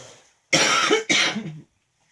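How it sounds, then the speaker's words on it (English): Two loud, close coughs in quick succession from a person working on an altered trinket box, followed by quiet. "Hang on a minute, I need to cough."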